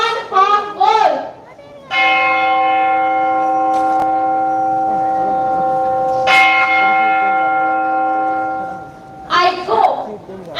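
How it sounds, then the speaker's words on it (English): A church-style bell tolls in long sustained strokes, two rings several seconds apart, each with a ringing, slowly fading hum, during a school inter-house stage play of Macbeth; children's voices are heard briefly before and after. "The bell invites me."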